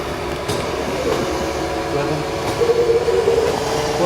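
A Hardinge HC5401T engine lathe runs steadily at 600 RPM, giving off a continuous mechanical hum and whir with a faint tonal whine that rises slightly near the end.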